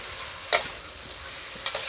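Cucumber and egg stir-frying in a pan, a quiet steady sizzle with two brief louder scrapes or stirs of the spatula, and no voices.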